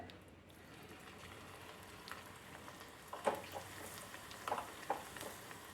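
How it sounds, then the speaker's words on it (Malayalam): Onion pakoda fritters dropped into hot oil over a medium flame give a steady, quiet frying hiss, with a few brief crackling bursts as pieces hit the oil. "ഇനി നമുക്കിത് ചൂടായ എണ്ണയിലേക്ക് ഇട്ട് കൊടുക്കാം"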